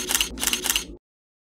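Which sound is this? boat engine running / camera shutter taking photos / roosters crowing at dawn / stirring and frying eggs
camera shutter taking photos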